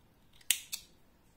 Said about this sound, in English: Now I am cutting the yarn.